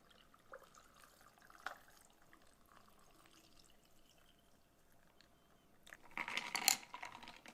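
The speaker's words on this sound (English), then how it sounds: "Time to pour." Watermelon agua fresca with watermelon bits and a few mint leaves is poured near the end: a short, bright splashing rush after several seconds of quiet room tone, with no talking.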